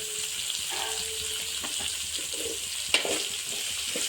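Coriander and onion frying in a pan give a steady, soft sizzle throughout, with a few light clinks of stirring and one sharper knock near the end.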